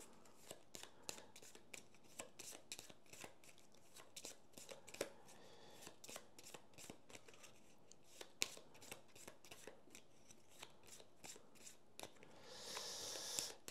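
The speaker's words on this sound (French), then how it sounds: "je remélange les cartes" Aeon's End game cards being shuffled by hand, a long run of crisp riffling snaps and soft slaps repeating steadily, close and quiet, with no talk.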